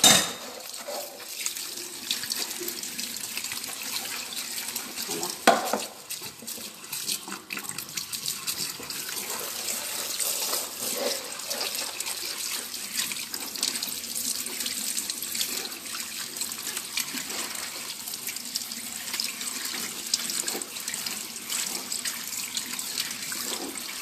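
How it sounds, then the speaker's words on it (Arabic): Water runs steadily from a tap for the whole stretch, a continuous splashing hiss with small shifts in the flow and an occasional brief knock. "حل عليه الماء مزيان"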